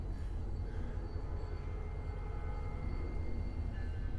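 A remote control locomotive rolls from one track to another through a series of switches, giving a steady, continuous low rumble of wheels and rail noise throughout, with no voices.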